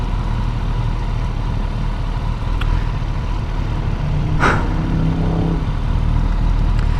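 Steady, loud wind-buffeted road roar while riding a motorcycle down the road, a continuous low rumble with a brief whoosh partway through.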